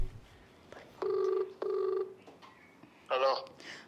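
A telephone rings for a prank call: two electronic ring bursts in a row, followed moments later by a short, brighter tone, with faint room noise between.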